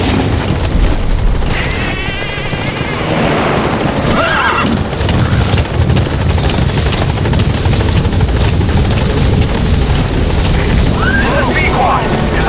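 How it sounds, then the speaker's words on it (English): In a military video game, a support helicopter arrives at a landing zone with a loud, continuous rotor roar throughout, alongside horse whinnies, hoof clip-clops and distant booms mixed in. "Support helicopter has arrived."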